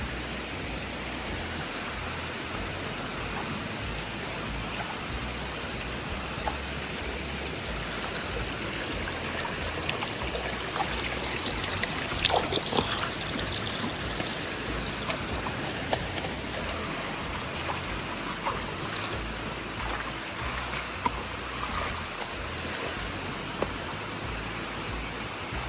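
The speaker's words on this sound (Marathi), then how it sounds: "तर हे पाणी व्हाळाच आहे" Stream water flowing beside a rice field in Konkan, where a channel has been dug, with a steady, full, hissing rush that stays close and continuous throughout and has no voices over it.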